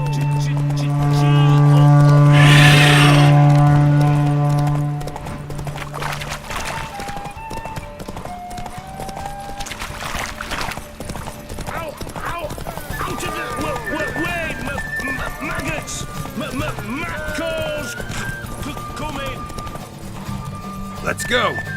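Horse galloping in a video game race, a steady run of hoofbeats after a loud horn-like blast at the start, with game music and voices talking over it.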